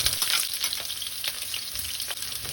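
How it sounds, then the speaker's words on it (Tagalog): Onion dropped into hot oil already used to fry garlic, giving a loud, dense crackling sizzle close by, steady throughout with a few louder spatters, no voices. "At kapag mainit na mantika, ihulog na natin kaagad ang sibuyas."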